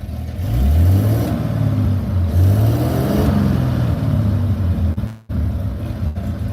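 Engine of a 1929 Buick with a straight-six, revved in a steady loud drone that swells and falls in pitch over several seconds, close up, with a brief dropout near the end.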